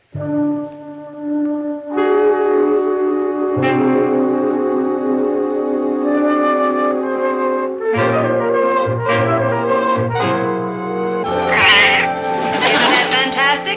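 A cat meows and caterwauls loudly and close up, drawn-out yowls rising and falling in pitch across several calls and growing more strained toward the end.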